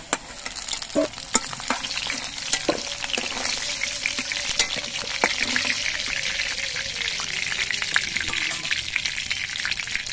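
Broccoli florets fry in hot oil in a pan, a continuous close sizzle broken by frequent sharp clicks and scrapes of a spatula stirring them.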